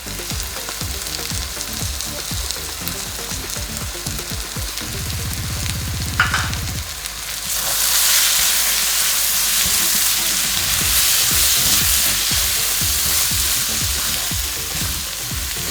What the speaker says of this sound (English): So now as the onion cooks, so will the masala, all the spices.